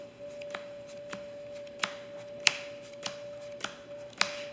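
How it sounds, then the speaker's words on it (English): A deck of trading cards is power shuffled by hand, giving about eight sharp, evenly spaced riffling snaps close up over a quiet background with a faint steady hum. "let's do my power shuffle as always"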